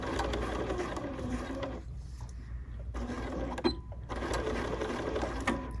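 A BERNINA sewing machine runs in fast bursts while stitching a centered zipper seam, its rapid mechanical whir close and steady, broken by two short pauses.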